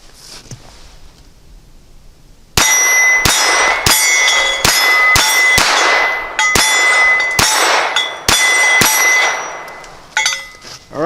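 Ruger LCP II .22 pistol firing CCI ammunition: about eleven sharp, loud gunshots in an uneven rapid sequence, each ringing briefly, with near silence beforehand.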